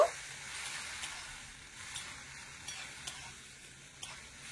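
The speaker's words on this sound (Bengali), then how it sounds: "এবারে মশলাগুলো একটু কষানোর জন্য অল্প একটু জলও দিয়ে দিচ্ছি। হালকা করে নেড়ে চেড়ে একটু মিশিয়ে নেব।" Ground spices loosened with a little water and ginger paste are sautéed in a pan, giving a faint, soft sizzle with light periodic taps and scrapes of a spoon stirring, close and quiet, with no speech.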